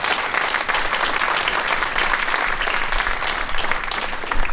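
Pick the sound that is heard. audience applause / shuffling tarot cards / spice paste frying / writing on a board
audience applause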